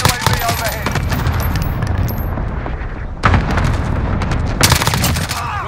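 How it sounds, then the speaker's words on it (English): Dense gunfire and heavy explosions from a cluster strike rumble through a Call of Duty Modern Warfare team deathmatch, with loud bursts and rapid cracks over a constant roar of combat. "Allied cluster strike inbound."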